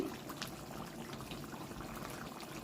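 Fish curry broth with ridge gourd simmering in a pot, giving a faint, continuous bubbling and gurgling close by, with no voices.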